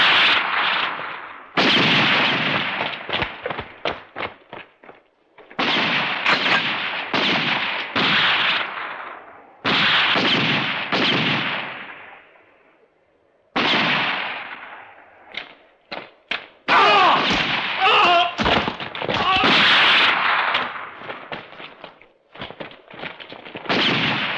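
Gunfire in a western film shootout: loud volleys of shots in several bursts, separated by brief pauses and lingering echoes, with no voices over it.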